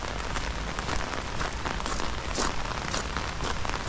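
Heavy rain pours down on a forest path in a dense, steady patter of drops close by, continuous and fairly loud throughout, with no voices.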